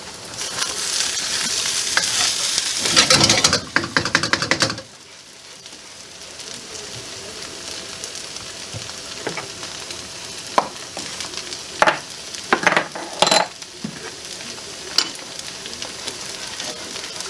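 Pork fried rice sizzles and is stirred in a very hot wok, with a loud burst of frying and scraping early on, then a quieter steady crackle broken by sharp clanks and stirs.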